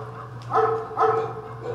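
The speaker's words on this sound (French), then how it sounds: "That's my dog." A Golden Retriever barks twice in quick succession, loud and close, over a steady low background hum with no talking.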